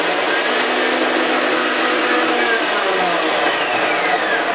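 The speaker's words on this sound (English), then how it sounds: "I'm going to put in some pumpkin seeds and pine nuts into my blender. I'm just going to whisk these up" A blender grinds pumpkin seeds and pine nuts at high speed, a loud continuous whirring roar with a slight shift in pitch as the seeds break down, no voices over it.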